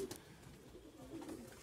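Pigeons cooing softly nearby, a couple of low, brief coos in a quiet setting.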